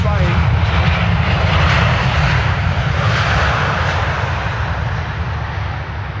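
A fixed-wing airliner lands at Amsterdam Schiphol Airport, its engines producing a loud, steady roar that fades slightly toward the end, with a voice talking over it.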